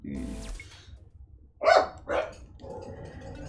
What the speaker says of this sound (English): my dogs have found all of the things to bark at right now